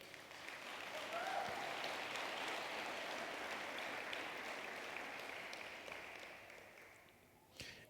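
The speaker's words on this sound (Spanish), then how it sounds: "Dar un aplauso a Jesús" Church congregation applauding at a pastor's sermon, a broad sustained wash of clapping that swells early, holds steady, then tapers off near the end, heard at a modest distance.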